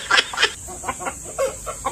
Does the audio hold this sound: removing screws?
no